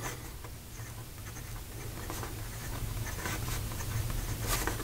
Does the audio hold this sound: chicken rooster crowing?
no